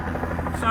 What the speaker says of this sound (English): Excuse the helicopter behind.